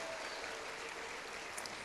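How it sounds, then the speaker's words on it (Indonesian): Steady applause from a large hall audience at an Indonesia Mengajar outreach event, honouring primary school teachers from the Bandung area; even, sustained clapping without pauses. "tepuk tangan untuk mereka semua"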